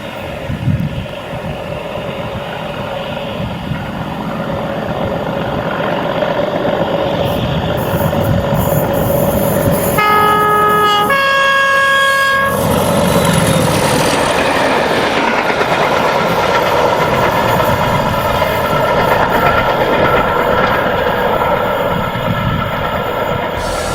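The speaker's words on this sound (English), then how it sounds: "31106 attacks the climb to Schlod on the Highland Main Line" British diesel locomotive 31106 climbing hard on the Highland Main Line, a loud, sustained engine roar close by with a brief burst of clattering tones midway, continuing steadily throughout.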